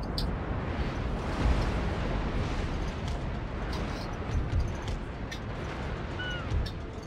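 A ship explodes during a naval battle in the video game Napoleon Total War. Deep rumbling booms and scattered cracks roll through a thick wash of battle noise, rising in a few heavier swells.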